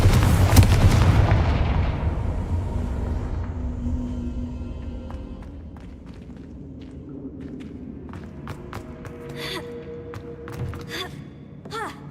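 Confringo blasting spell exploding in Hogwarts Legacy: a loud, booming burst at the start that fades into a rumbling tail, followed by scattered faint clicks and thuds.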